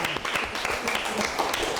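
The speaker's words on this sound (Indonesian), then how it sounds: "Tepuk tangan." Pupils in an elementary school religion lesson clap together in a brief, fairly quiet burst of classroom applause, a dense patter of hand claps with a few sharper individual claps.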